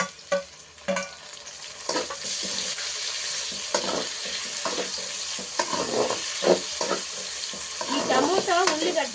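Chopped tomatoes and onions fry in a pan with a steady, close sizzle and broadband crackle, broken by scraping stir strokes and clinks of a spoon against the pan.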